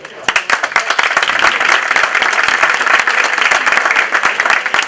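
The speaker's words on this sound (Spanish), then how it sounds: "un fuerte aplauso" An audience at an exclusive chefs' dinner in Moncofa gives steady, loud applause, with dense claps throughout and a few sharper nearby claps standing out.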